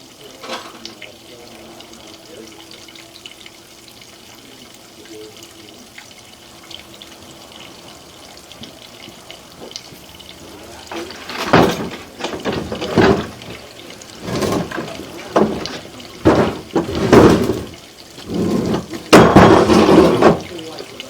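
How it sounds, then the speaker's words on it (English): Water gushes through a greasy kitchen sink drain line being flushed out, starting as a low trickle and building into loud, irregular surging bursts of splashing flow. "So we're flushing out the line right now."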